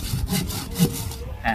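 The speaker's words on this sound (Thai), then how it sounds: "อันนี้สำหรับการเลื่อยครั้งแรกนะครับ" A hand saw cuts through a mango tree branch during pruning, with rasping strokes at a steady back-and-forth rhythm, close and fairly loud, with no talking.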